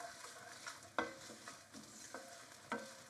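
Dried red chilies sautéing in a pan for a Chettinad chicken curry, stirred steadily: a soft continuous sizzle with periodic scraping clinks of the spoon against the pan, close and moderately quiet.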